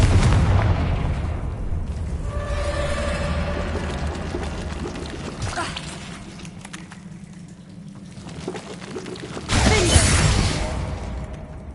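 A Confringo blasting spell explodes in Hogwarts Legacy, with one loud burst near the start and another bright, booming blast near the end, separated by rumbling ambience and some tonal game sounds.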